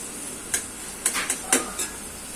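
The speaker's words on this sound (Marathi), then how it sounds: "चांगलं हलवून घ्यायचं. चांगला कांदा लालसर व्हायला पाहिजे." A utensil stirs onion and tomato in a pan for besan methi, making a few soft scraping clinks at irregular intervals over a faint, quiet background.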